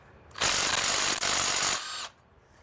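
An impact gun hammers away at a stubborn part during an engine teardown, a loud steady burst of rapid impacts lasting about a second and a half, with a tiny break midway, then cutting off.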